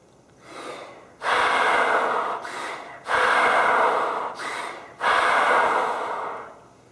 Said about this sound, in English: So here's what good breathing looks and sounds like.